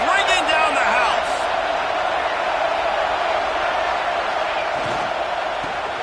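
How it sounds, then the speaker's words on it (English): A stadium crowd in the College Football 26 video game roars as a broad, sustained wash of noise, loudest at the start and holding steady throughout. "this crowd is bringing down the house"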